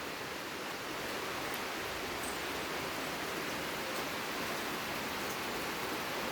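Steady rain pours down without pause on a foggy morning, a dense even hiss that holds at the same level throughout with no voices over it.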